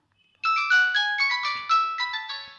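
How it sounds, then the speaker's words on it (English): A Nokia 110 4G mobile phone rings with a bright electronic ringtone: a quick, loud melody of clear beeping notes that starts abruptly after a brief silence and plays on without any talk. "then you can set the ringtone for your mobile."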